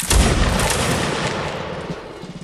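Musket volley in Mount & Blade: Napoleonic Wars, a dense burst of overlapping shots with a heavy boom that rolls off into a fading rumble, loud and close.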